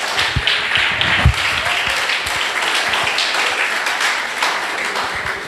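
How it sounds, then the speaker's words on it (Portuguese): Church congregation clapping during a Portuguese-language service, a lively full round of applause with some louder nearby claps standing out. "Vamos dar uma salva de palmas ao Senhor Jesus."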